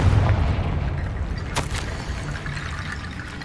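A Confringo spell cast near an altar and sarcophagus in Hogwarts Legacy lands with a deep rumbling boom. A brief sharp crack follows midway as the low roar slowly fades.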